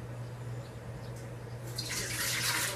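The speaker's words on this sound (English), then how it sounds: "we're going to start by pouring in a cup and a half of water" A cup and a half of water is poured into a big pot to start a batch of soap. After a quiet start, a steady, close splashing pour begins partway through and runs to the end, with no talking.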